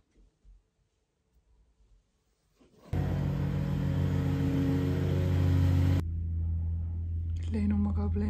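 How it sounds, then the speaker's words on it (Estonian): Workers drill loudly inside a house under bathroom renovation, a sudden steady mechanical drone that starts after quiet room sounds, holds for several seconds, then drops to a lower hum. "nad hakkasid just nii kõvasti puurima"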